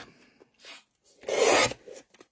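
A paper panel is trimmed for papercraft, with a few short rasping scrapes and one louder sustained cutting sweep near the middle, close and otherwise quiet.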